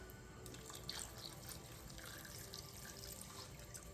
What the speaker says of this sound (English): I got to add a little bit more water